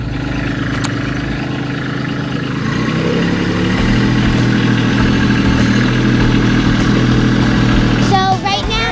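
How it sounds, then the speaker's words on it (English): A tractor engine runs steadily nearby, its low rumble growing fuller partway through and continuing to the end, with a brief high squeal near the close. "I think he's coming in on the tractor."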